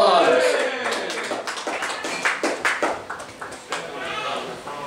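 Audience clapping greets Tapeworm as he enters the building at a comedy show, scattered claps rising under a loud announcer's voice.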